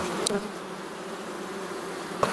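Black honey bees buzz around an open hive during an inspection, a dense, steady hum close by with a couple of brief clicks or knocks and no voices.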